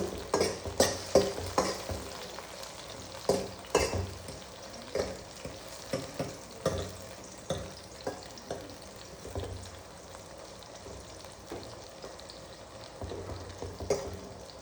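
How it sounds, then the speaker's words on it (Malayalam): Brinjal curry sautéing and being stirred in a pan, a steady frying sizzle broken by repeated scraping stirs that come close together, then thin out to a quieter sizzle before a few more strokes near the end. "എല്ലാം വഴണ്ടി വരണം"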